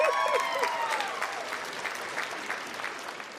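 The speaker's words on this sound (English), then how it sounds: "she deserves one more round of applause" Audience applause during a podcast discussion on science and hair, a dense round of clapping from a crowd close by, with a brief voice over the start before fading slightly.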